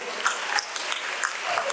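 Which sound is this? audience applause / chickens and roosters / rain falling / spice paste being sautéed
audience applause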